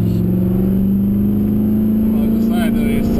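V8 race car accelerating on a wet track during a hot lap, a loud steady engine drone heard from inside the car with rising pitch and constant road and spray roar.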